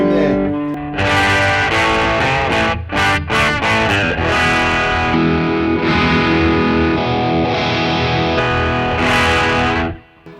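An electric guitar through an MXR Fat Sugar overdrive pedal into an Astoria amp plays loud, sustained distorted chords and notes with reverb, ringing continuously before cutting off at the end.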